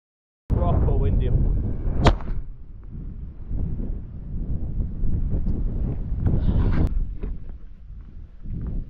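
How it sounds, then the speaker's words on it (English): Strong wind roaring through woodland, buffeting the microphone in a loud continuous rush with gusts, and a sharp crack near the start. "Proper windy."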